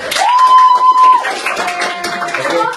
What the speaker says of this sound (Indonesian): Coba tepuk tangan dulu dong.